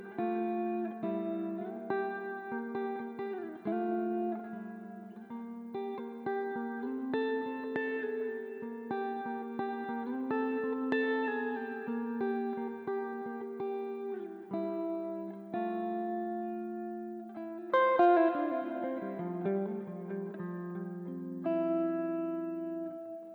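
Guitar through a Peavey Invective 112 combo, captured with an XLR DI and an SM57 in front blended together, playing a series of clean chords and single notes with light echo and reverb, and no talking.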